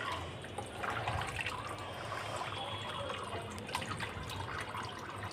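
Rice washed by hand in a bowl of water, with continuous close sloshing and swishing as the grains are rubbed, plus small splashes and trickles throughout.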